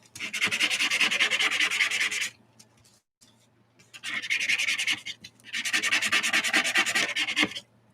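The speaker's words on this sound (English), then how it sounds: "I'm just scraping as much of that wax off that I can" Wax is scraped off painted drop paper in three long rasping strokes. The first and last strokes run about two seconds each, the middle one is shorter, and brief quiet gaps fall between them, close up with no talking.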